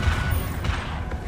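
The Confringo fire spell being cast in Hogwarts Legacy, a dense, booming low rumble with a fiery crackle, loud and continuous through the brief moment with no voice over it.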